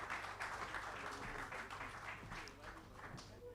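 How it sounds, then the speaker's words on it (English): An audience at an economic discourse event applauds its panelists, a soft, dense patter of clapping with some voices mixed in. "can we give a round of applause to our panelists again?"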